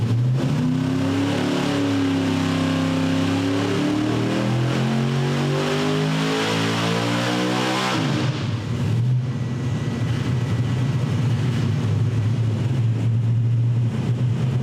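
An engine fitted with a 3D printed intake manifold revs steadily upward toward 8,000 RPM, its loud rising drone then settling into a harsh, buzzing high-speed roar, close by with no talk.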